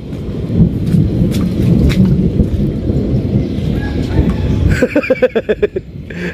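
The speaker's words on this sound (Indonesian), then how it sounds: "Tambah hujan lagi kan" Heavy rain pours steadily during a thunderstorm near a tower work site, with deep rumbling thunder throughout and a cluster of loud, rhythmic cracks or bursts near the end, no one talking.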